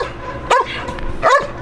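A protection dog barks during bite work training, two sharp barks about a second apart, close and loud with a brief pause between them.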